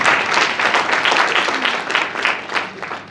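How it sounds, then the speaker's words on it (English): An audience at a book launch breaks into a warm round of applause, dense overlapping clapping that swells and holds steadily, fairly close and lively for its full length, with no voices over it. "A warm round of applause."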